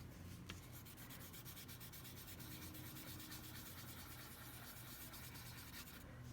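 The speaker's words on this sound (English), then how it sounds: "If I blend this soft lead" Soft pencil lead rubbed and blended across paper during a drawing demonstration, giving a steady, close, quiet scratchy rubbing that continues without pause.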